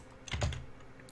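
A few keystrokes on a computer keyboard, close and fairly quiet, tapped in a short burst while entering a number into a search field.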